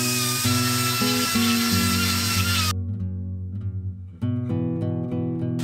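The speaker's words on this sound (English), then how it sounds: "Then he ground out the welds from the top to ensure a solid weld with deep penetration" An angle grinder works steel plate welds, a loud steady whine that cuts off midway, drops to a lower spinning-down tone, then starts up again at full pitch.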